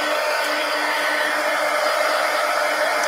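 Steady, loud blowing hiss of a heat tool drying matte medium on a mixed media collage pumpkin, running continuously without a break and with no one talking.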